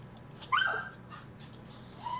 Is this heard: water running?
no